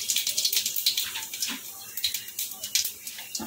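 Cumin seeds sizzle in hot oil in a wok, a bright crackling hiss with rapid irregular pops that holds steady and close for the whole stretch.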